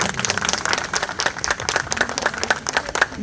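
Loud, steady applause from an audience at an aerobics club event honouring its trainers, dense clapping running throughout without a break.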